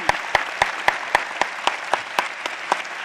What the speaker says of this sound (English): a round of applause for our excellent, excellent panelists